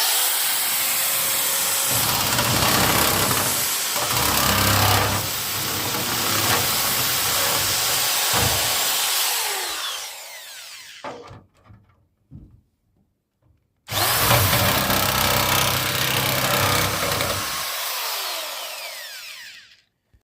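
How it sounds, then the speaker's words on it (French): A nibbler cutting sheet metal roofing on a timber-frame house build, a loud continuous grinding buzz that runs about ten seconds, stops briefly with faint clicks, then resumes for several seconds more. "Donc là, Serge, il utilise une grignoteuse que la tôle n'arrive pas à rentrer."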